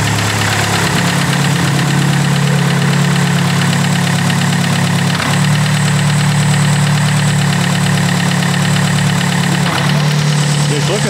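A car engine with major internal damage runs loudly and continuously, a dense droning roar with rough knocking throughout and brief dips in tone as the clutch is pressed.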